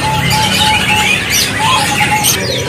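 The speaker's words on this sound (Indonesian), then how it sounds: "Untuk yang lagi mencari burung Plesi, ini tersedia ya." Plesi bird chirping at a kiosk in a bird market, a series of repeated short, high whistled notes in a steady rhythm, close and clear over a busy background of other birds and market noise.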